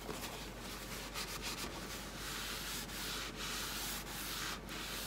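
Dark wax being rubbed off a clear-waxed craft piece by hand with a light touch, a steady close scratchy rubbing that continues without a break, with no talking.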